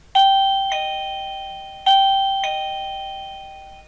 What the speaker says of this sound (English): So when you press the doorbell at the front, this is the loudest.